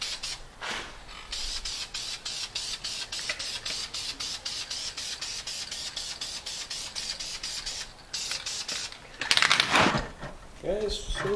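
Rapid bursts of spray paint hitting red car brake calipers, a fast series of short hissing pulses close to the microphone, followed by a longer spray and people talking afterward.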